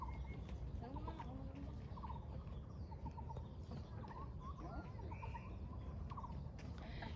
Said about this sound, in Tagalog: yung mga huni ng ibon na yun eh